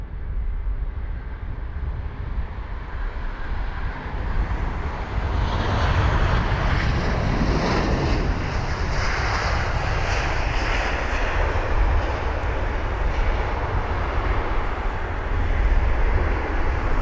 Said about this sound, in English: There's the BA aircraft just about to touch down now. That's going to be the A320-200 from Zurich